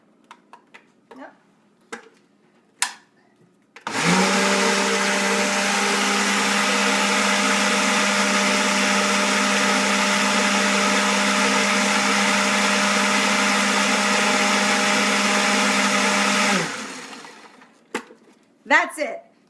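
A countertop blender liquefies meatloaf ingredients in a loud, steady whir lasting about thirteen seconds, starting abruptly and winding down, with brief kitchen clatter and a few words before and after.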